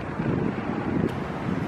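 Heavy wind buffets the microphone in a constant low roar, steady and close, with no voices.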